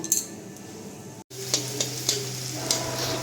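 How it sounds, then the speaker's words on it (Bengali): Chopped onions frying in oil in a wok for a Mughlai curry, giving a steady close sizzle broken by a brief cut, with several sharp clinks of a spatula against the metal. "এই যে এবার পেঁয়াজগুলোকে ভালো করে ভেজে নিচ্ছি"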